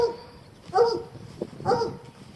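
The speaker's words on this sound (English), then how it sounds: "There's my ornery old dog." A dog gives two short, separate vocal bursts, close by, with quiet outdoor background between them.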